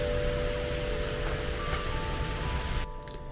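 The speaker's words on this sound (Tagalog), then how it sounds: "Pero ayoko nang umalis ng ganito kalakas ang ulan." Heavy rain pours steadily in a dense, continuous hiss outdoors in Korea, loud and unbroken before dropping away abruptly at the end, with no speech.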